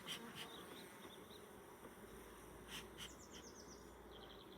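Honeybees buzzing densely around a crowded Dadant beehive in shade, a steady close hum with individual bees droning past, no talk.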